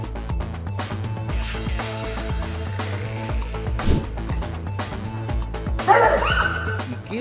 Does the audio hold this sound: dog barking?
yes